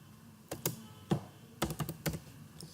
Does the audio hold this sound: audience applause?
no